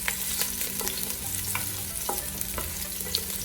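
Garlic cooks in about three tablespoons of olive oil in a pan for spaghetti aglio e olio. A soft, steady sizzle sounds close by, punctuated by light scraping stirs, with no talking.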